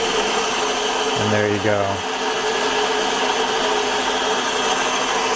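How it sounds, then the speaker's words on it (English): A Taig CNC mill spindle switches on and ramps up to about 2000 RPM with a brief rising whine, then settles into a steady, fairly loud mechanical hum. Someone speaks briefly over it. "So I can turn on the spindle with this button here."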